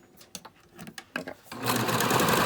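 Sewing machine running a basting stitch along a fabric face mask: a few soft clicks and taps, then a steady, close whirring burst for the last second.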